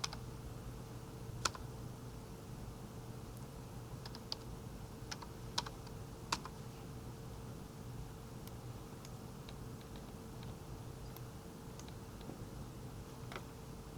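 Dimensions being typed on a computer keyboard while drafting a rectangle in drawing software, heard as scattered light key clicks over a steady low room hum, no talking.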